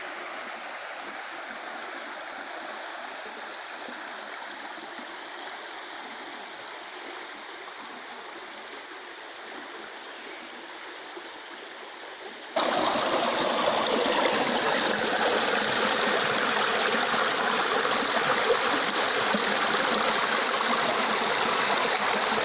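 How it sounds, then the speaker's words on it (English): Clean water flowing down a jungle stream near Korowai tree houses, a continuous rushing, gurgling flow that grows suddenly louder and closer midway and then stays steady, with no talk. "There's really clean water flowing down."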